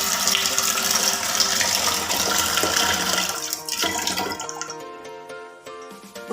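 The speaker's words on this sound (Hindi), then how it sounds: "फिर उसके बाद हम पतीली में पानी देंगे।" Water runs steadily into a cooking pot being filled to boil eggs, a loud, continuous splashing pour that stops partway through, leaving a short ringing resonance from the pot.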